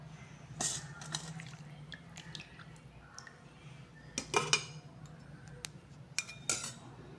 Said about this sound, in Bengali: আমি এখন লেয়ারটা দিয়ে দিচ্ছি। প্রথমে দিয়ে দিচ্ছি চিকেন,